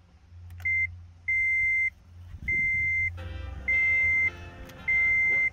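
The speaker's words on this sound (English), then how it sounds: "Happy beeps. Programming success." Five steady electronic beeps from a key programmer signalling a successful key programming on a 2012 Toyota Prius, evenly spaced with short gaps, over a low engine hum.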